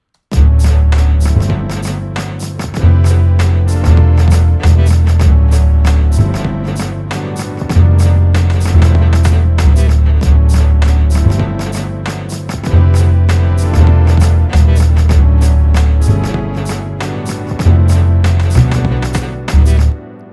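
A lofi hip hop beat with a sax sample, punchy drums and a thick looping bass riff playing loud and steady, full mix with no voices.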